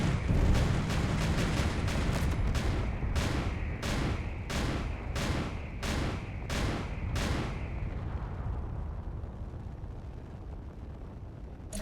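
Ship-mounted weapons in Space Engineers fire a rapid volley followed by about eight evenly spaced heavy booming shots, then the barrage stops and fades into a low, rumbling tail.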